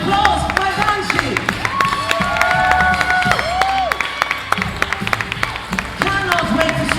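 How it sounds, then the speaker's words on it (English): A crowd at a themed Diagon Alley evening show claps and cheers for a performer, lively applause mixed with music tones and scattered voices. "Another round of applause for my Banshee."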